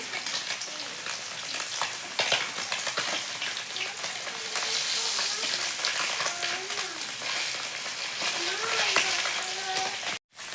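Bata fish frying in hot oil in a pan, a steady dense sizzle running throughout with occasional faint clatter, briefly cutting out near the end.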